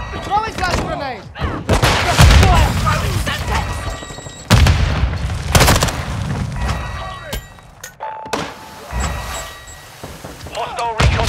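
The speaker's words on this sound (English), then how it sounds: "Throw a grenade! Flash out! Throwing grenade! Throwing gas grenade!" Grenade blasts and gunfire in the Call of Duty Modern Warfare II video game, a mosh pit multiplayer match, with several loud booms and shots spread across the clip amid game chatter and voice lines.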